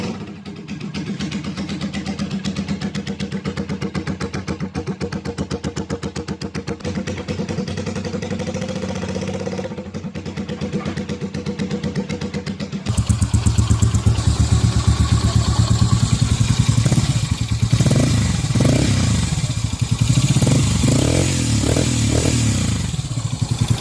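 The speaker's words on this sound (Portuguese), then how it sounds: "soando como um motor monocilíndrico" A V-twin motorcycle engine with incorrect timing runs with a rapid, even thumping like a single-cylinder. It idles first, then switches to a louder, deeper running note with a few throttle blips.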